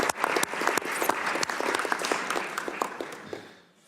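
Applause at a WHO Executive Board session: a room full of people clapping steadily in dense, crisp claps, swelling early and then fading away toward the end.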